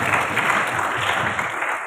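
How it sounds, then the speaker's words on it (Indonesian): A small group of participants at an Islamic student organisation (ROHIS) training session clap together in a dense, even burst that carries on without a break. "Kalau setuju tepuk tangan dong"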